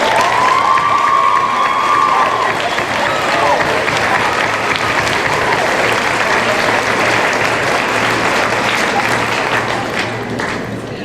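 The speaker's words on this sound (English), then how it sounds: "TPAA faculty and staff, would you stand so we can give you a round of applause?" Loud, sustained applause with cheers from a crowd at an 8th grade promotion ceremony, honoring the faculty and staff of Palmdale Aerospace Academy. The clapping stays dense for the whole stretch, with a few shouts rising above it.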